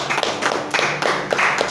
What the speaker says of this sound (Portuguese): E as palmas ao Senhor.